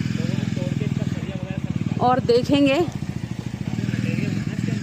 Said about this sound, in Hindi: बाइक यहाँ पार्क पे लगा रहे हैं